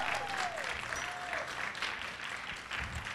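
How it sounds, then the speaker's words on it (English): Indoor audience applauding steadily at a cooking competition event at a school, a dense and even wash of clapping throughout, moderately distant and not loud, with a faint voice briefly heard early on. "Let's give Ashley a big round of applause."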